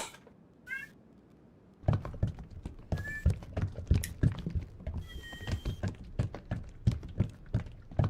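A domestic cat gives a short, high meow near the start, then a series of dull knocks and thumps follows in an uneven rhythm, fairly close and moderately loud.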